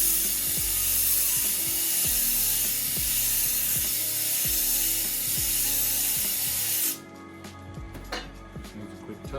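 Steel tool edge ground on an 80 grit sharpening wheel, a steady loud rasping grind with rhythmic mechanical ticking for about seven seconds, then dropping to a quieter, sparser scraping.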